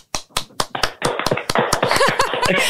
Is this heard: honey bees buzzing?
no